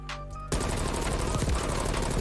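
Rapid automatic gunfire in the shooter game Black Ops Cold War, a loud continuous burst of closely spaced shots after a short moment of quieter game sounds.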